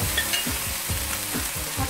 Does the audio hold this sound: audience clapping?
no